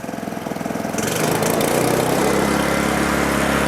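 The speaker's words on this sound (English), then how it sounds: "that's it on tick over, great for leaves off a stony drive" A small petrol engine on a paddock vacuum idling steadily, a low chugging rumble that swells slightly louder after the first second and holds.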